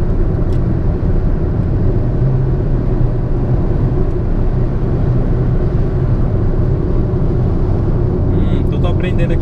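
A Citroen C3 automatic driving on the road, its engine a steady loud low drone inside the cabin with a shift between gears, while someone talks over the noise.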